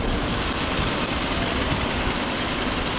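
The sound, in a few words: construction noise in the background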